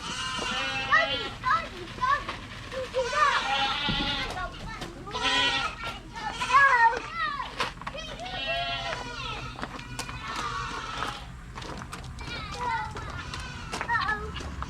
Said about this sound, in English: let's go get the goats in the field